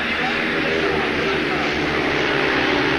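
Speedway motorcycles racing at the 1991 World Pairs, a dense continuous engine roar from several bikes, loud and unbroken throughout, with a crowd-like wash and commentary voice mixed underneath.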